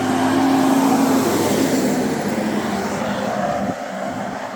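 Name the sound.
truck making a strange noise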